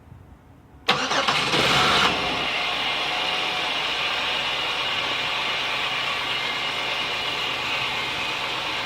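A GM 3.4L engine cranks briefly and catches with a loud burst, then settles into a steady, even idle that runs on close to the microphone without any talking.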